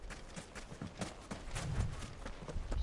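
A horse galloping across desert ground in Final Fantasy XVI, its hooves making a steady, rapid clip-clop rhythm that grows louder and heavier toward the end.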